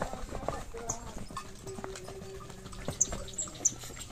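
A horse's hooves clip-clop intermittently on a farm near a shed, the irregular knocks fairly close and moderate in level, with people talking over them.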